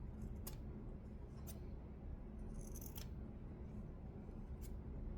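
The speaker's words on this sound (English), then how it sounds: "I'm just gonna snip off the corners." Scissors snipping the corners of fabric during Christmas sewing, several sharp, quiet clicks spaced about a second apart over a low, steady background hiss.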